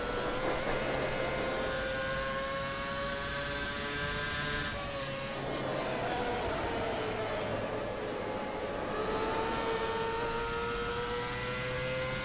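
A race car engine in a sim racing game holds a steady, droning whine with slowly rising and falling pitch as the throttle is pushed, continuous and fairly quiet throughout with no talk.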